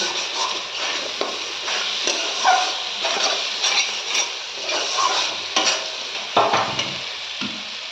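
Masala for chicken kasa fries in a pan while being stirred, a continuous close sizzle broken by repeated scraping and clinking strokes of a utensil against the pan, no talking.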